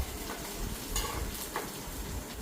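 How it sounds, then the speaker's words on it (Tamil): Garlic and onion fry in a pan with a soft, steady sizzle, punctuated by a few light scrapes and clinks of a stirring utensil, fairly faint. "பார்த்தீங்கன்னா உள்ளியும் வெங்காயம் கொஞ்சம் பொரிஞ்சு கொண்டு இருக்குது."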